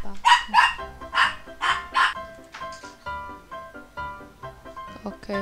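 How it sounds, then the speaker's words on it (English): Dog barking in the Cookie Clicker game, a run of sharp, loud barks spaced about every half second, then fainter repeated yips, with a tonal game melody running underneath. "Let the dog bark!"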